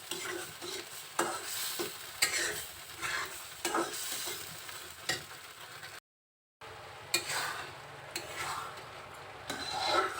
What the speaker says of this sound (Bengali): রসুনের সাথে খুব অল্প পরিমাণের আস্ত জিরে দিচ্ছি